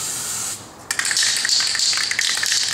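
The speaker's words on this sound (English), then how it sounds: "Now when you're spraying, spray a little bit at a time" Aerosol spray paint hissing onto a model fighter jet, a steady close spray that pauses briefly and then resumes in longer bursts.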